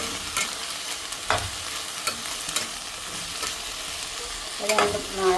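Ginger and garlic sizzle in a hot pan for a few seconds, with occasional spatula scrapes and clinks as they are stirred, no voices present.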